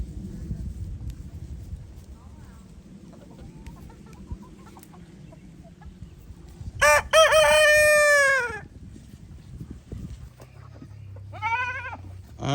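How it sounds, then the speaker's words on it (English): Roosters on a farm, one crowing loudly nearby in a long cock-a-doodle-doo and another answering shortly after, over a low background of outdoor rustle and faint farmyard noise. "We will gladly part with a few of these roosters."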